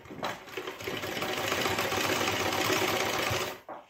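A sewing machine runs a steady, fast stitching burr for a few seconds while attaching a gota border to the folded edge of a saree, close and alone with no talk.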